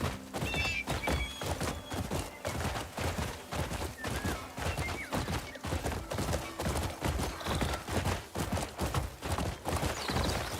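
A horse gallops in the Crimson Desert video game with rapid rhythmic hoofbeats throughout, along with intermittent whinnies and snorts over a busy game soundscape.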